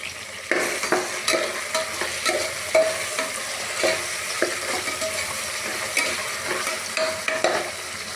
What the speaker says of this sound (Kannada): ಇದ್ರ ಮೇಲೆ ಒಂದು ಈರುಳ್ಳಿ ಬೇರೆ ಶುಂಠಿ ಬೆಳ್ಳುಳ್ಳಿ ಪೇಸ್ಟ್ ಹಾಕ್ಕೊಂಡು ಫ್ರೈ ಮಾಡ್ಕೊಳ್ಳಿ.